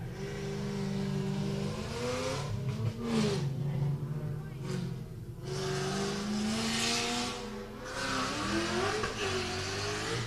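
A red Nissan 350Z and a Mustang rev hard at a drift competition start line, loud rising and falling engine notes layered over one another, with a commentator talking over them.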